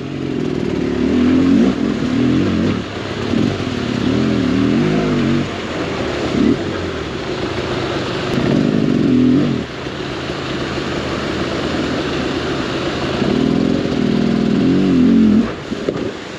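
An enduro motorcycle climbs up a waterfall during heavy rain, its engine revving hard and loud in repeated surges and dips, with water and rough terrain clattering underneath.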